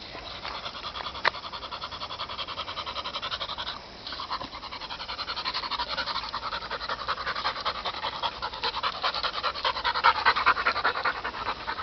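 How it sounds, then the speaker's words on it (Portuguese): A small dog pants quickly and continuously close by, a steady breathy rhythm with occasional faint scratches and no talking. "lá vem aquele cachorrinho chato"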